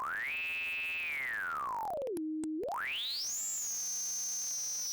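A pure synthesized tone sweeps up, glides down to a low pitch, then rises high again, with a small click in the middle.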